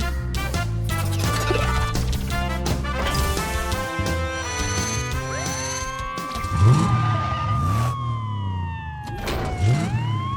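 A cartoon fire engine siren wails, rising and falling over dense, busy game-style music and effects, loud and continuous throughout.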